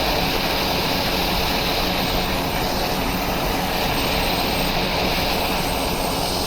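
Steady, loud broadband roar of an aircraft engine in X-Plane 11, sitting on the ground at Southampton before takeoff, with a constant droning rumble and hiss that holds level throughout.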